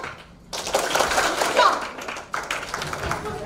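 Children clap their hands on spoken command during a classroom-style game at a student award ceremony, giving a few scattered, uneven claps close by amid background chatter and movement.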